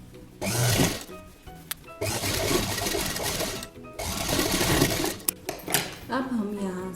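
A sewing machine stitches a belt in three loud close bursts separated by brief pauses, followed by clicks and handling sounds, with a voice talking between runs.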